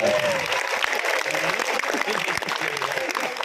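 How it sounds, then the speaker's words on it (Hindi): An audience at a night-long poetry gathering bursts into sustained applause, dense clapping throughout with voices and shouts mixed in. "तो एक बार जोरदार तालियां हो जाए आपके लिए।"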